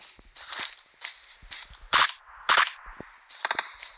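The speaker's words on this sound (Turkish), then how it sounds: "Biri falan sıkıyor." Gunfire in the battle royale game PUBG rings out as a string of sharp, cracking shots at uneven intervals, some in quick pairs and bursts, loud and close.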